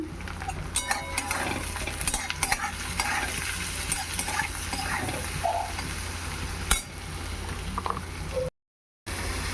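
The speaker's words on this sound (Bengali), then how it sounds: "এবার গাজর ভেজে নেব" Carrots fry with turmeric and salt in a home kitchen pan, a steady close sizzle with stirring scrapes and light clinks running throughout, then a short dropout near the end.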